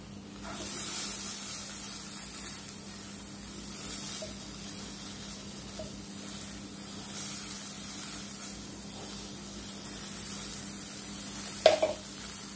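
A leftover chapati cheese sandwich fries in butter on a pan, giving a soft, steady sizzle and hiss throughout, with a brief clink of a utensil near the end.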